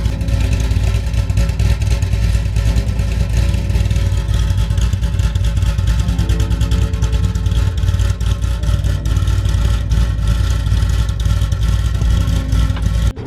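A Corvette Z06 V8 fitted with an aftermarket cam idles with a loud, lumpy, choppy rhythm, breaking into repeated revs that rise and fall over steady clattering mechanical noise, with no talking.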